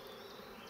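Honey bees buzz steadily around an open hive during a colony inspection, a faint, continuous drone with no talk over it.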